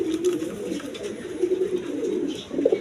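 Big Indian Kaldom pigeons cooing close by, a continuous soft throaty rolling coo from several birds overlapping with no pauses, with a faint hum underneath.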